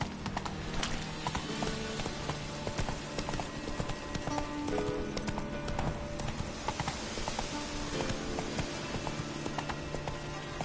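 Roach the horse galloping in The Witcher 3, a dense run of rhythmic clip-clop hoofbeats that carries on throughout, close and loud, with game ambience and tonal music lines underneath.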